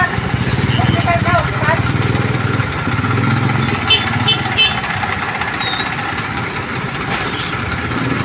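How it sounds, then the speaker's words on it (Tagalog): A motorcycle engine thrums with a steady, rumbling rhythm close by on a narrow road, its loud pulsing drone continuing throughout beneath someone talking. "Tanging mga single na motor lamang ang nakakadaan."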